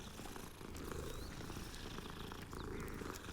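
A cat purrs steadily while being petted in the video game Hogwarts Legacy, a close, continuous rumbling purr with no talk over it.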